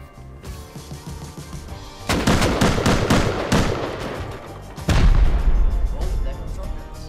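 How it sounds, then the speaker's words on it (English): Loud rocket and gunfire attack in the survival video game Rust: a heavy impact sets off a cluster of rapid sharp bangs, then a second big blast hits and fades into a rumbling tail. "Oh, there comes rockets."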